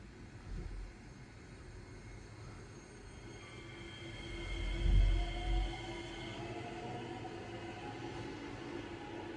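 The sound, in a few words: C751B train being driven in a train simulator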